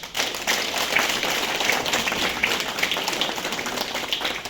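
An audience at a Lithuanian Social Workers' Day celebration in Rokiškis in 2023 gives steady, dense applause for social workers, a fairly close wash of many hands clapping without pause.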